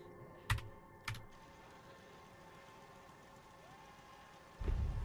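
Keys clack on a computer keyboard during a Fallout 4 gaming session, a few sharp isolated taps spaced apart, then a brief louder burst at the end over a quiet hum.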